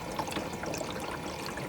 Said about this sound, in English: So right now it's during the fill phase